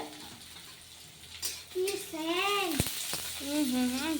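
Onion and garlic frying in a pan, a soft steady sizzle running beneath a voice talking throughout, with a faint clink of a utensil.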